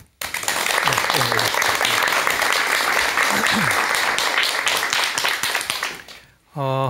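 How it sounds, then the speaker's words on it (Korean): A lecture audience gives loud, sustained applause welcoming a doctor's talk on Buddhism, a dense clapping wash with a voice briefly over it, fading out before a short musical chime. "큰 박수와 함께 지금부터 박사님의 강의 청해 듣도록 하겠습니다."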